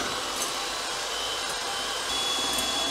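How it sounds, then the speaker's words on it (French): An electric mixer beats egg whites with sugar for a lemon cake, giving a loud, steady, high motor whir close by with slight wavering. No talk is heard. "on commence à battre les œufs, on surveille les blancs d'œufs, le sucre"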